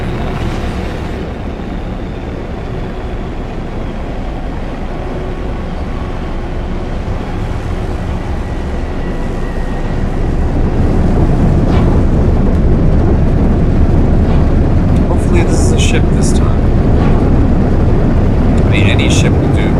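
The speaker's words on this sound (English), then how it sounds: "we're still gonna do our low flyby" A starship in No Man's Sky roars past in a low flyby, a broad rumbling wash that swells louder midway and stays close and heavy, with a few faint chirps on top.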